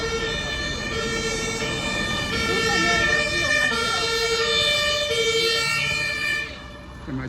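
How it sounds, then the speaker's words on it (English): An ambulance siren wails steadily and loudly through a Berlin street near the Brandenburg Gate, its repeating tones over traffic rumble and occasional faint voices, fading slightly at the end. "Ambulance as usual."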